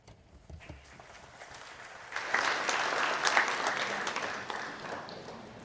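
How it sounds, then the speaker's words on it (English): A summit audience applauds a speaker, with scattered claps at first that swell after about two seconds into steady, full applause and then hold at that level. "Let's give him another round of applause as we invite next speaker."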